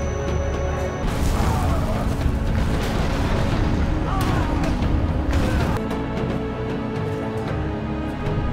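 A historical war film scene of Qing army red cannons bombarding charging soldiers during the siege of Namhan Mountain Fortress. A dense, continuous barrage of loud booms and rumbling blasts rolls on without pause.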